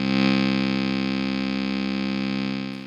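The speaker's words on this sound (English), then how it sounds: "So I added in some super low notes on my Arturia Micro Brute." Deep sustained low notes from an Arturia MicroBrute synthesizer run through a Walrus Audio Lore reverse reverb, a dense swelling wash of reverberant sound that holds steady and then fades out.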